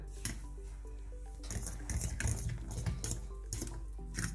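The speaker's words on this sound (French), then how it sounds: "Vous allez tourner jusqu'à obtenir un mélange homogène." Oat flake cookie mixture is stirred by hand in a bowl, giving soft repeated scraping and light clinking of a utensil against the dish, quiet and close, with no talk.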